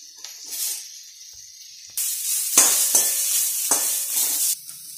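Onion and capsicum sizzling in a hot pan for Schezwan Hakka noodles, quiet at first, then a louder hissing fry with several sharp crackling bursts as vegetables are stirred.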